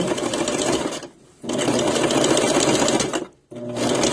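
Sewing machine running fast and loud while stitching a puffy sleeve seam with a cuff, two brief pauses breaking the steady mechanical buzz.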